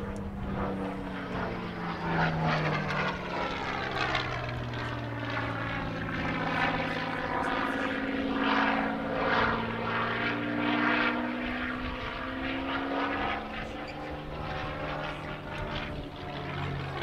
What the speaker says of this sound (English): we'll see firstly the solo display by the Spitfire Mark 9 in its desert camouflage scheme